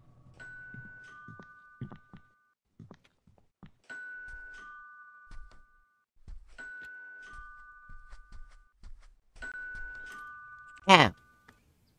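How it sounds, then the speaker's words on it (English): A two-tone ding-dong doorbell in a video game rings four times at regular intervals, clear and electronic, with faint shuffling sounds between and a sharp thud near the end. "It was a doorbell, not a phone."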